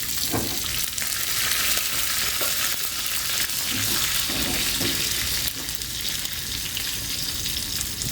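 Hot oil sizzles and crackles steadily throughout as the tempering with curry leaves fries for Andhra-style gongura mutton curry, with a few faint stirring knocks; no voices.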